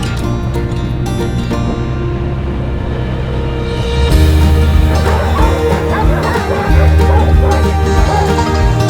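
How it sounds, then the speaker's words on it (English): Alaskan sled dogs that run the Iditarod, a pack barking and yelping excitedly all at once, loud and continuous over a dense, noisy outdoor background. "Here's our Alaskan sled dog excursion."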